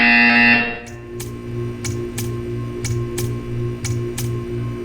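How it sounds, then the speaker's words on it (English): A buzzer sounds in the Portal 2 video game, a loud tone at the start that gives way to a steady low electronic hum with regular clicking pulses, and no voices. "You will hear a buzzer."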